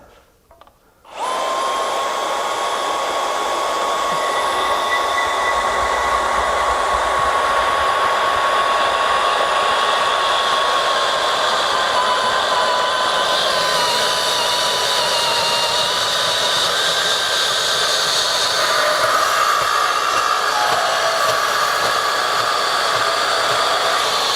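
A Milwaukee 2729S deep cut dual trigger band saw cuts metal stock held in a vise at a 45-degree angle, starting with a whir that settles into a loud, continuous whine with a slowly shifting pitch for the whole cut.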